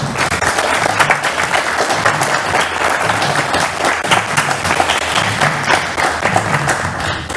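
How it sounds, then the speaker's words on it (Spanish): A conference audience claps loudly and steadily, with dense, continuous applause filling about seven seconds and no talk standing out. "quiero pedir un aplauso para ellos porque sin esto no hubiera sido posible"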